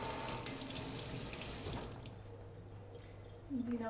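Water streams steadily from a faucet into a sink in an artisan showroom, a continuous close hiss that tapers off midway, leaving a quieter running trickle.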